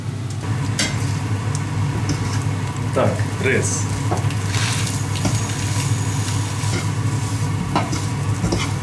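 Steady sizzling of butter frying in a pan, with occasional clinks of utensils and a person speaking briefly nearby.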